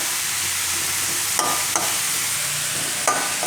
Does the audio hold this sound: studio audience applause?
no